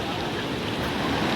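Water swollen after two days of rain rushes past at a picnic spot, a loud continuous roar close to the microphone with some wind buffeting.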